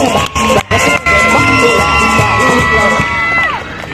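Street crowd in Oaxaca's historic center zócalo cheering and shouting for a clown's show, with excited voices, yells and whoops rising together, a few sharp breaks, and a sustained high cry near the end.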